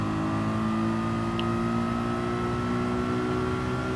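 A 2009 Mercedes McLaren SLR in Gran Turismo 7 drones at high throttle, a steady, loud engine tone holding and slowly rising in pitch as the car accelerates.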